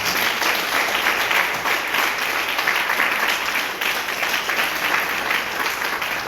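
A church congregation breaks into steady, loud applause that continues evenly throughout, with no pauses and no voices rising above the clapping.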